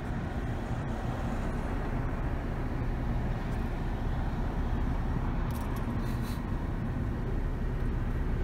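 A Fiat Egea Sedan cruising in sixth gear at steady revs, its engine hum and road and tyre noise forming a continuous, even low rumble throughout with no voices.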